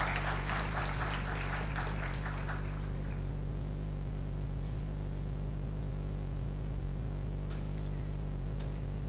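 Applause from an audience at a Federal Judicial Academy event welcoming a speaker to the stage, fairly distant and fading out after about three seconds, leaving a steady electrical hum.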